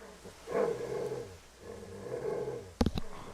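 A creature in the survival horror video game Darkwood growls low in two drawn-out, rumbling bursts of moderate loudness. A short sharp knock or thump follows near the end, with no talking.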